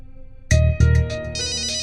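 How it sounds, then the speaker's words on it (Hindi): Incoming-call ringtone sounding loud and close from a phone, a bright electronic melody of repeated tones that starts suddenly and keeps going with no voices over it. "अब मेरे बॉस का फोन है,"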